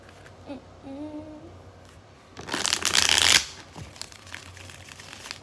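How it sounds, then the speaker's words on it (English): Tarot cards being shuffled in a quick, papery riffle that swells loud for about a second, with soft handling rustles before and after and no talk. "Let's get two more shuffles"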